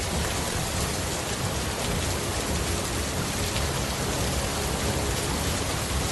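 Heavy rain pours down during a stormy night, a dense, loud, unbroken hiss of rainfall with a low rumble underneath, continuous throughout.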